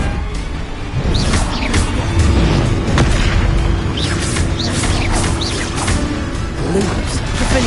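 Booming spell blasts from the Bombarda charm in the Hogwarts Legacy video game, several crashing impacts over a dense, loud game mix with voices talking throughout.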